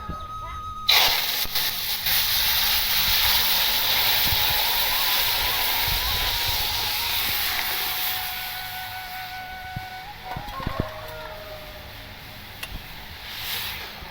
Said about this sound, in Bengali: সেই ডালটা এখন আমি তেলের উপরে ছেড়ে দেবো